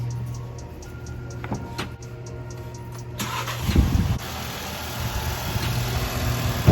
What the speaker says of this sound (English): Now I'm going to go start the car and let it run for, what, 10, 12 minutes?